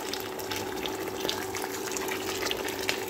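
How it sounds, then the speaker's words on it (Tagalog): Hot water poured into a pot of chicken being cooked for lunch, a steady, close splashing and rushing pour with a faint hum running underneath, continuous for a few seconds with no talk. "Naglagay ko ng hot water para madaling kumulo."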